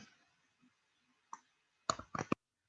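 A computer mouse clicks while working in a spreadsheet: one faint click, then a quick cluster of about four sharp clicks near the end, with quiet room tone between them.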